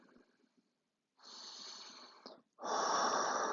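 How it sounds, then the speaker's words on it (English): Deep breaths during a short yoga routine, heard close up: a faint inhale, then a long airy exhale, a brief pause and a stronger, louder breath out. "One more big, deep breath together."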